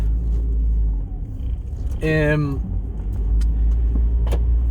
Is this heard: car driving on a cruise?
yes